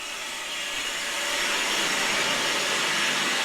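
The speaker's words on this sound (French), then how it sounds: "c'est un peu bruyant avec la pompe, je vous l'accorde." A pump runs noisily at a station, giving a loud, steady broadband hiss and roar that swells slightly and holds constant throughout, with no talk.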